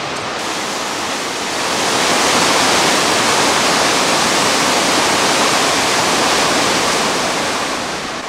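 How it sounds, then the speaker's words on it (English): Godafoss waterfall beside Iceland's ring road roars as a loud, steady broadband rush of falling water, swelling slightly in volume midway and holding constant with no voices. "Another day, another gorgeous waterfall."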